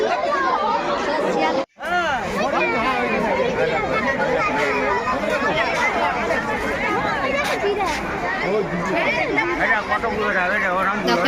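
Dense crowd chatter fills the grounds of Alipore zoo on a busy New Year's Day, many overlapping voices forming a loud, steady hubbub close around the listener, with one brief dropout near the start.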